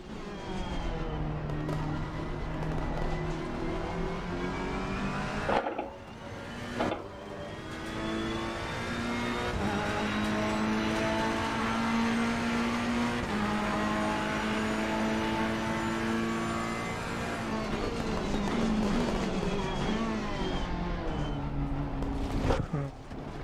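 Race car engine in a racing video game, a loud continuous engine drone shifting pitch through acceleration and gear changes, with brief dips, playing steadily throughout.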